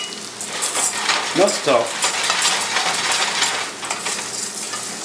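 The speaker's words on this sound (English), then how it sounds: "add the rice and toast it. Stir from the center to the side." Rice toasting in a pan for risotto alla milanese, stirred with a spoon from centre to side, gives a steady dry sizzle and scraping rustle. A few brief words of speech come through the stirring.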